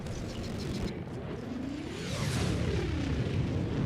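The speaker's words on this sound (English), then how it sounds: "That doesn't sound like the normal strafing run." A loud Eagle air support strafing run in Helldivers 2 roars in over a dense battle rumble, with a rising and falling whine sweeping through the middle and the din swelling louder toward the end.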